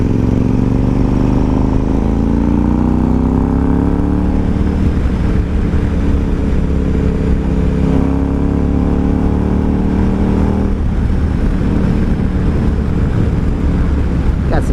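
A 2012 KTM 990 SMT supermoto touring motorcycle ridden on open roads, its engine droning loudly and continuously with rising and falling pitch through gear changes, mixed with heavy wind buffeting at the microphone.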